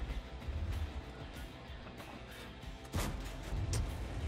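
A single tank cannon shot in the World of Tanks video game lands as a brief, fairly faint blast late in the clip, set against quiet in-game ambience.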